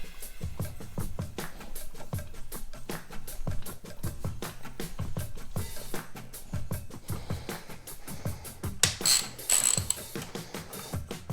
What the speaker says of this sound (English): now I need to pump the shock to get all the air out of the oil